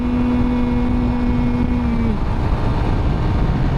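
A Suzuki GSX-R motorcycle on a night ride holds sixth gear at full RPM, a loud, steady engine drone with a sustained high whine and heavy wind rush, with no voices.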